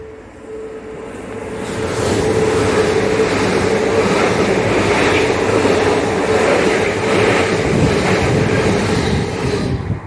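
A Class 800 train passes through Starcross, a loud, sustained rumble with rail noise and a steady tone that swells after about two seconds and holds close by for the rest of the clip.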